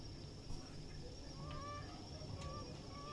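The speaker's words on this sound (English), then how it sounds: "Those ducks in the background sounds like they're having sex." Ducks quack in the background of the video game Lake, giving faint, scattered honking calls from a distance over a steady outdoor ambience.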